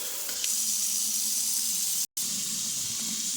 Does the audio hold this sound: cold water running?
yes